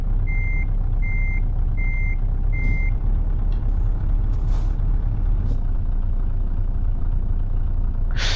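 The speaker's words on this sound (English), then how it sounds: "reversing the lorry is a bit pain in your arse" A Scania lorry in Euro Truck Simulator 2 sounds four steady, evenly spaced reversing beeps over a constant engine drone, then a few faint clicks and a sharp hiss of air brake release near the end, with no talking.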